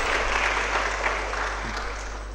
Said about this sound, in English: Let's all welcome sir with a warm round of applause.